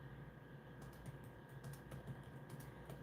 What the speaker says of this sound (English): just typing up something here